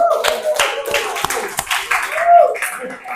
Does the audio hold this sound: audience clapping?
yes